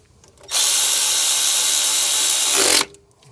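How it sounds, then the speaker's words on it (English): A power tool whirs loudly and steadily for about two seconds while tightening a bolt on the power steering fitting of a Honda Accord, starting and stopping abruptly in an otherwise quiet garage. "then tighten the bolt."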